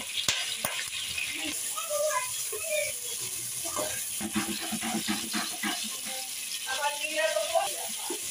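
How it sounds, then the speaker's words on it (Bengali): Chicken pieces lightly frying in a pan after ginger and garlic, with soft sizzling, scattered crackles and occasional stirring scrapes, close by and steady throughout, with talk over it. "চিকেনটাকে একটু হালকা ভেজে নিচ্ছি"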